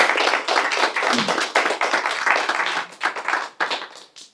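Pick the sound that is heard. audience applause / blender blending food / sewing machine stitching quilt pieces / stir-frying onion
audience applause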